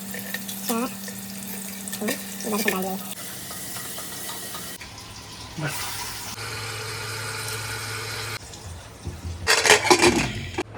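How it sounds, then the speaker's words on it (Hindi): Chopped onions go into hot oil with whole spices such as black cardamom, cinnamon stick, black pepper, cloves, star anise and bay leaf, giving an intermittent sizzle with stirring clatter; a tonal hum runs under parts of it and it grows busier near the end. "यहाँ पे हमारा तेल ऑलमोस्ट हो गया है, तो प्याज डाल देते हैं इसमें।"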